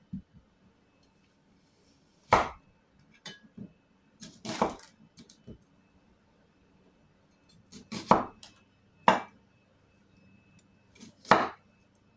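Food is chopped in a bowl in a quiet kitchen: about five or six sharp, separate knife strikes, spaced irregularly with pauses between them.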